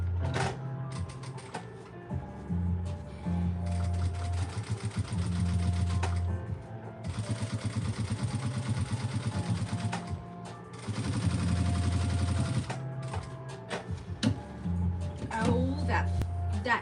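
A sewing machine top stitching seams on an up-cycled Gucci bag, running in rapid buzzing bursts of stitching with short pauses between, close and clear, while someone talks over it.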